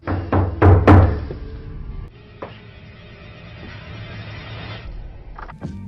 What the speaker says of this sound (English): Suddenly, a knock.